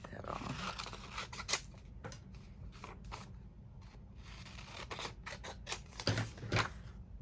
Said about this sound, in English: Let me just cut that off.